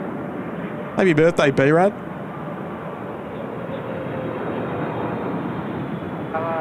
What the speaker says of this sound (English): Big 777 there arriving here on runway 16 right